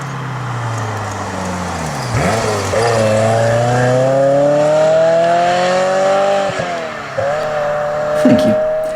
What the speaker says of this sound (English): let's give us 10 seconds to celebrate the timeless glory of this Ferrari F355